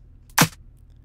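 A single short, sharp snare drum sample with its sustain cut right down: snappy attack and almost no tail, heard alone.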